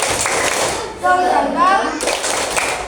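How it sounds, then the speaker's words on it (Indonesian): Classroom rhythmic clapping game, tepuk semangat, with bursts of clapping at the start and end and children's voices chanting in the middle, close and fairly loud. "Tepuk semangat."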